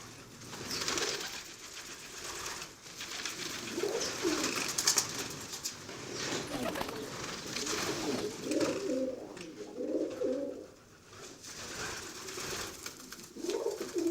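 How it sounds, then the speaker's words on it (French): Pigeons coo softly in soft repeated bursts throughout, with some rustling and occasional wing flaps in the background. "dans l'élevage de pigeons domestiques, l'homme a créé à partir de la forme sauvage"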